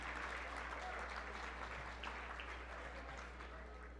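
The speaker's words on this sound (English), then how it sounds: "we do need to thank them and give them a big round of applause" Gala guests applaud the event's sponsors with steady, even clapping spread across a crowd, heard at a distance and fairly quiet over a constant low hum.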